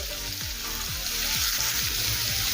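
Carrots with onion and green chilli stir-fried in a pan over a medium-high gas flame, a loud steady sizzle broken by rhythmic scraping strokes of a spatula, no talking.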